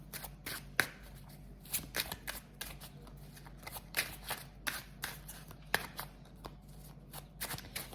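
Tarot cards being shuffled by hand, close and soft, with repeated riffling flutters and light taps at an uneven rhythm, with no talk.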